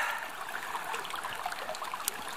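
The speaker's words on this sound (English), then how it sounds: "it's just a gorgeous babbling brook with cold water" A babbling brook of cold water along the Pacific Crest Trail, a steady close rush and trickle of flowing water with fine bubbling detail, continuous and fairly loud.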